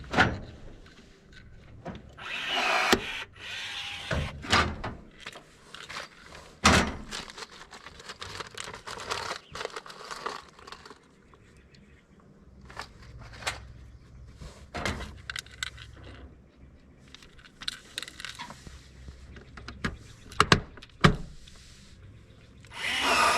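Metal flashing for a Velux skylight is cut on a vertical seam metal roof, with a run of crinkling, snipping and clattering bursts separated by brief pauses, near and fairly loud.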